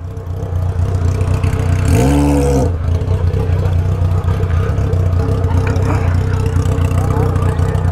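A Honda Hornet motorcycle engine idles steadily with a low, even hum up close, while a voice briefly speaks over it.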